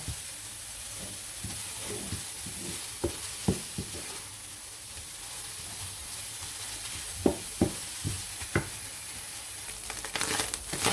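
Egg and tuna stir-fried in a pan until dry, a steady near sizzle with scattered scraping clicks of a spatula against the pan, no voices.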